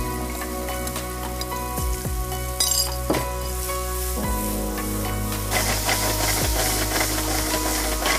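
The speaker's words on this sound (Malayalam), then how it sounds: "പാൻ നല്ല ചൂടാകുമ്പോൾ നമ്മൾ ആ മറിനേറ്റ് ചെയ്ത മഷ്റൂം ജസ്റ്റ് ഒന്ന് ഗ്രില്ല് ചെയ്യാനിട്ടുള്ളതാണ്" Marinated mushrooms sizzle steadily on a very hot pan, a continuous loud frying hiss with occasional stirring scrapes and clinks, and no voices.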